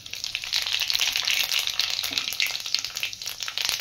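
Steady, loud sizzling of five-spice seeds, dried red chillies, bay leaves and asafoetida frying in hot oil in a wok, crackling close up without any talking.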